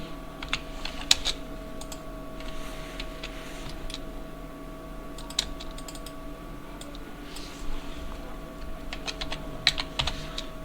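A computer keyboard is typed on while labelling a wardrobe drawing in design software, making quiet, scattered clicks in short clusters over a steady electrical hum.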